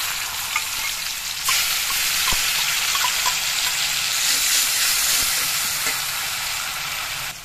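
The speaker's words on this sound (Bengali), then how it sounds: "ফোড়নটা একটু ভাজা হয়ে যাওয়ার পর এর মধ্যে সাদা তিল বাটাটা আমি দিয়ে দিচ্ছি।" White sesame paste hitting hot oil tempered with cumin and slit green chillies, a loud continuous close sizzle with a sharper burst partway through and occasional utensil clinks.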